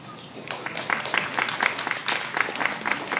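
Audience applause after a poetry reading at a World International Day of Poetry event in Bermuda, a steady mass of hand claps with sharper individual claps standing out, fairly close and moderately loud.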